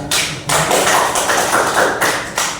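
Applause from a classroom audience at a teaching session, a steady dense patter of many hands clapping fairly close, with slight swells in intensity and no talk over it.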